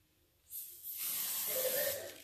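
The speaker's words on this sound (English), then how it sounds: "And just spray your face, but you want to keep going." Self tanner sprayed onto the face from an aerosol can: quiet at first, then a sudden steady hiss that swells and holds for over a second before tapering.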